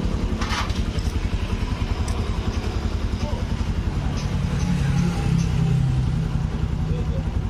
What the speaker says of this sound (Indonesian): Suara mesin lembut